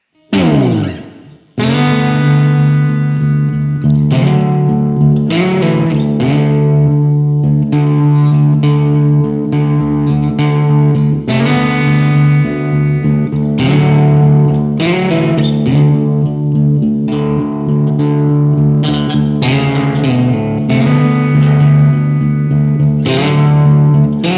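Heavily distorted electric guitar captured through a ribbon microphone plays loud, sustained metal chords and chugging riffs with sharp stops and restarts, thick and saturated throughout.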